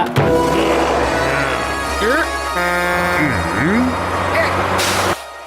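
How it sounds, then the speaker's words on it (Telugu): A cartoon truck in a Motu Patlu episode arrives with engine rumble and hissing air brakes, heard under character voices and sliding sound effects, cutting off abruptly near the end. "మీకోసమే ట్రక్ వచ్చింది"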